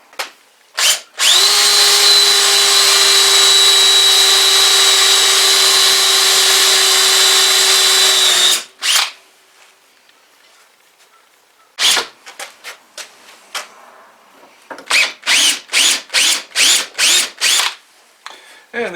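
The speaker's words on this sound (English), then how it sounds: "So I'm gonna drill and tap some places for screws to go in it." A power drill bores holes for screws in the floor of a 1948 Ford body, first a long continuous whine, then a string of short bursts and rapid on-off pulses, loud and close.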